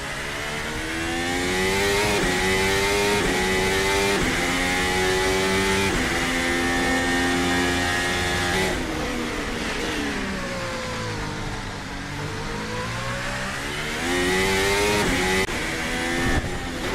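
Race cars on a track during a season-opening round in China, with continuous loud engine roar rising and falling through gear changes as several cars pass close by, no talk.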